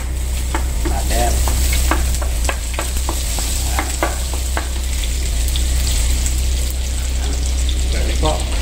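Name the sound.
frying fried rice ingredients in garlic butter and oil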